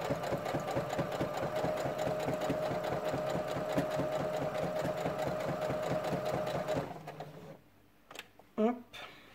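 A home sewing machine with its free arm removed runs steadily at a fast, even stitching rhythm for several seconds, then stops, leaving a few faint clicks and handling noises.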